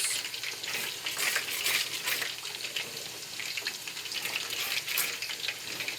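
Chicken à la king sauce is stirred in a pan as it thickens, a continuous bubbling sizzle with soft scraping and swishing from the spoon, close and steady with gentle swells.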